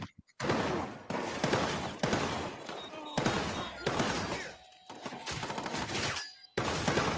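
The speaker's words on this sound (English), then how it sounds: "He's shooting the shotgun" Shotgun fire in a video game, heavy booming blasts in several loud bursts separated by short gaps, close and dense, with game noise and players' voices mixed in.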